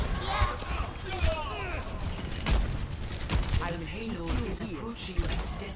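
Gunfire in a competitive video game match, rapid scattered shots and sharp bursts mixed with game mechanisms, with excited players talking over the action throughout.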